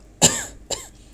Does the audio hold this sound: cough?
yes